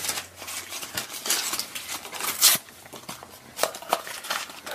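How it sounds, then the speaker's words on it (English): A toy blind bag is torn and crinkled open up close, with irregular plastic rustling, ripping and crackling bursts. "These are not easy to unwrap."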